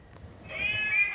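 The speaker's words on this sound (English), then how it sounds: "she's going to meow me" A single drawn-out cat meow rises out of low background rumble and holds steady for most of a second, close and fairly clear.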